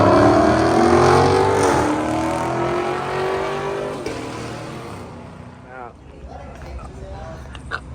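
A supercharged car with a built transmission revs loudly at a night car meet. The engine climbs in a rising rev, then fades and settles into a rumble with lighter background noise.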